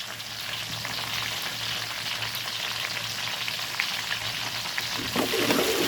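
Curry leaves fry in hot oil for Karnataka-style avalakki chuda, giving a dense, steady close-up sizzle with faint stirring scrapes throughout.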